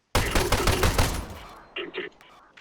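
Shotgun blasts in the Arma 3 Half-Life mod: a loud, rapid run of overlapping shots for about a second and a half, fading out, then two shorter, sharper bursts close by.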